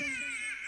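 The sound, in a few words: baby crying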